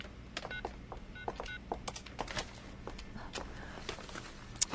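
Someone dials a telephone call on a keypad: a quick, uneven run of soft clicks and short beeps, close and fairly quiet, with faint room movement and no talking.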